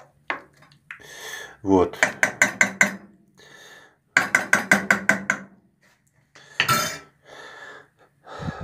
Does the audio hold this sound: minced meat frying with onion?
yes